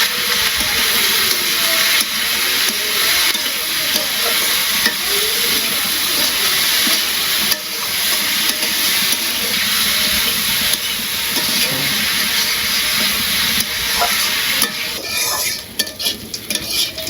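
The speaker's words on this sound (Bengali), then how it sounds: "এই যে আলু আর করলা ভাজি হয়ে গেছে" Potatoes and bitter gourd frying in a pan, a loud close sizzle that holds steady throughout with scraping stirring noises mixed in and no talking.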